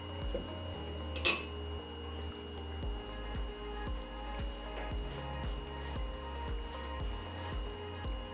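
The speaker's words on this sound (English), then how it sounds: "before adding the rest of the ingredients to our sugar and Guinness mixture, I like to mix it out a bit" A utensil taps and clinks rhythmically against a bowl while mixing a sugar and Guinness mixture for Jamaican Easter bun, with regular close strokes and one brighter clink early on, no talk.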